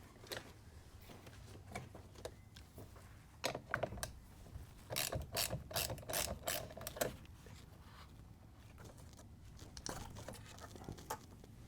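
A hand ratchet clicks in short bursts while a 10 mm terminal nut is worked off a RAM 1500 battery, with quiet rattles and handling noises between the runs of clicks.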